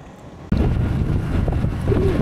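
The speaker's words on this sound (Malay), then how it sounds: "Oh, nikmatnya dapat angin sejuk." Cool wind rushing past a rider on a Modenas Elit 150S motorcycle, a loud, steady broadband roar of wind noise that starts abruptly and continues unbroken.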